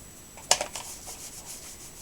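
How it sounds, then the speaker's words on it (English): Fingers rubbing the end of a strip of double-sided tear tape on a card to lift its backing, a brief close scratchy burst followed by a few lighter rubbing strokes, quiet and without talk. "rub the end so you can get it to lift off, the backing on it anyway"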